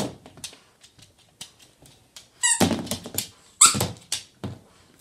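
A dog chews a squeaky Santa Claus toy, giving a series of sharp close squeaks and soft thumps, with a louder burst of squeaking and chewing in the second half.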